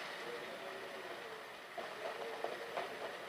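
A train runs in a radio play, a steady low rumble with faint rhythmic clacking that builds slightly near the end.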